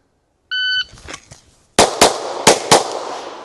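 Glock 34 pistol fired on a shooting range, the shot timer's beep followed by four sharp, loud gunshots in quick succession, the first standing alone and the last three in a tight string.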